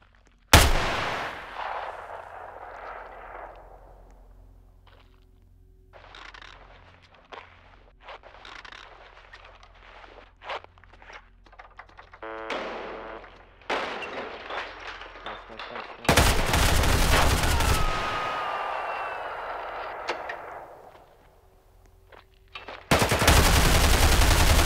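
Gunfire in the HELLMET shooter game, with single sharp shots and dense bursts of automatic fire, close and loud, separated by quieter stretches of movement and a voice talking.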